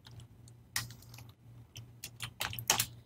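Computer keyboard keys clack in quick irregular bursts while code is typed, close and fairly quiet over a steady low hum, with a few louder strokes near the end.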